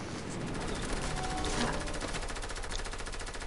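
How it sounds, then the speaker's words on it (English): Rapid submachine-gun fire from a video game rattles in a fast, continuous stream of sharp shots at moderate loudness, with a voice briefly heard underneath. "Rapid fire, SMG."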